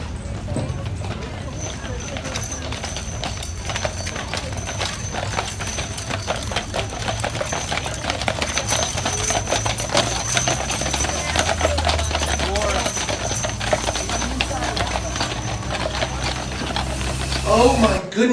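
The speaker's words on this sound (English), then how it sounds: "All those horses pulling that cart like that" Team of tall horses pulls a wagon at the Topsfield Fair, hooves clip-clopping steadily through a busy outdoor crowd, with steam-like hiss and a low rumble underneath for the whole stretch.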